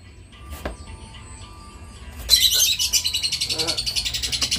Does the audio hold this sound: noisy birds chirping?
yes